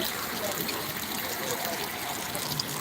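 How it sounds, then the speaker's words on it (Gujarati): Heavy rain pours down in Banaskantha district, making a dense, steady rushing hiss with no pauses throughout. "આપ જોઈ શકો છો વડાની અંદર ધોધમાર વરસાદ વરસી રહ્યો છે"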